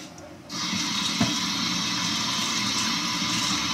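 A juicer part rinsed under a running kitchen tap, the stream starting abruptly and then pouring steadily and close, with water splashing against the part.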